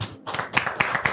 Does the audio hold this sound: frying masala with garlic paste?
no